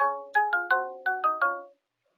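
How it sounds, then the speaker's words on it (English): A bright electronic chime from a Nooie video doorbell rings through a short melodic tune of about seven tones from a phone app's speaker, then stops into silence. "it ringing on the device."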